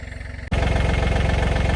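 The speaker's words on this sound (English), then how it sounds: "hopefully you can hear me over the tractor" A tractor engine runs close by with a steady, throbbing low rumble, briefly cut off at the start before resuming loud and even.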